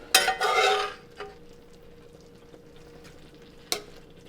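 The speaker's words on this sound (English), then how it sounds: "we're going to push it down so it gets down into that rice and continues to slowly cook." Shrimp, scallops and squid are pressed down into paella rice in a pan, with a loud scraping push at first, then a quiet simmer broken by a few light taps of the utensil.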